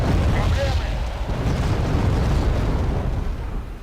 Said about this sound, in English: they sort of start artillery spamming